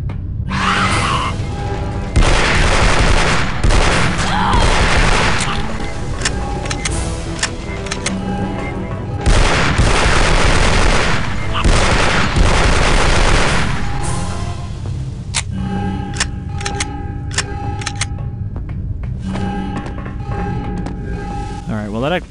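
Pistol shots ring out in the sci-fi shooter Aliens vs Predator 2: Primal Hunt, with loud, close bursts of gunfire and game effects over roughly twenty seconds.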